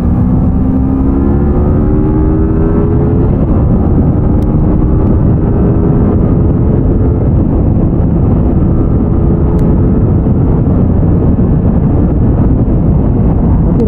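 A 2022 Modenas Z250 ABS 250 cc naked motorcycle cruises at speed, a loud sustained engine drone with rising and shifting tones, heavy wind rush over the microphone throughout.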